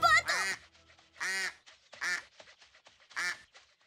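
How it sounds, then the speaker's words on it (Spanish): Four loud, nasal quacks spaced irregularly, close by and alone, with brief quiet gaps between them. "¡Un pato!"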